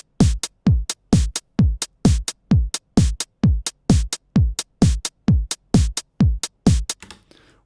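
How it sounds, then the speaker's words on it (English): A drum pattern alternating deep kick hits with crisp snare backbeats, about two strikes per second in a steady rock-and-roll groove, loud and close with no voices. "If I put a snare drum here and here, listen to this."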